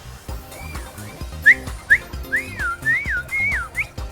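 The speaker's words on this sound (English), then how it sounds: "Yeah, whistle into the mic." A person whistles straight into a microphone in a short run of rising and falling notes, near and fairly clear, over low background sound.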